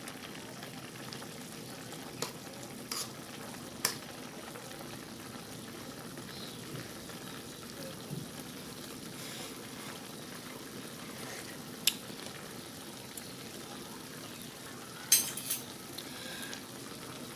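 Vegetarian patties and tofu skin braise with pineapple in a pot, a steady low simmering hiss with a few sharp utensil clinks against the pan. No one speaks.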